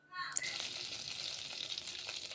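Fish pieces lightly frying in hot oil for a prawn and ash gourd dish: a sudden, bright sizzle bursts in and then crackles steadily and close up.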